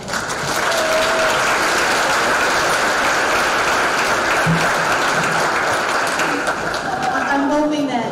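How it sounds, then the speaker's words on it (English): An audience at a middle school spring concert applauds loudly and steadily for several seconds before the clapping thins out, with a few voices calling out near the end. "So a round of applause for them."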